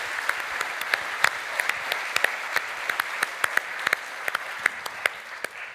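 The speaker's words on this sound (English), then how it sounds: "So perhaps we can have one more round of applause." An audience applauding after an evening lecture on capitalism, dense, sustained clapping from a sizeable crowd with sharper individual claps standing out, steady throughout and heard alone.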